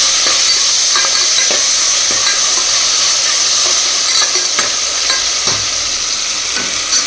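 Tomatoes hitting hot oil with onion and ginger-garlic paste, a loud, dense, continuous sizzle up close with occasional stirring scrapes, no voices.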